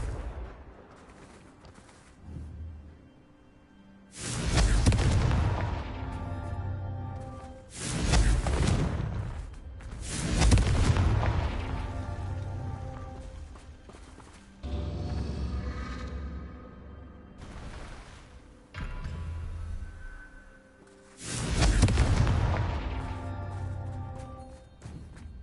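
Confringo blasting spells in a video game, several loud booming explosions with whooshing bursts that repeat every few seconds and decay between blasts, with no voices.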